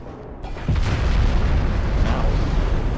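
Naval gunfire in Ultimate Admiral: Dreadnoughts, a deep heavy boom that rolls into a sustained rumbling roar of shells and explosions, loud and continuous.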